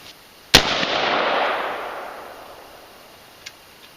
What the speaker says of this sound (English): Let's put a few rounds down range and see what kind of muzzle velocity we get first out of the 7-inch barrel pistol